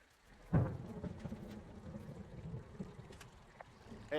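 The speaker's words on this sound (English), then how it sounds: "Hey, I heard some thunder." Thunder rumbles in a storm in the video game Firewatch, opening with a close loud crack that rolls off into a low rumble while steady rain patters throughout.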